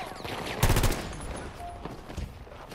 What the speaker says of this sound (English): A little tappy-tap fire.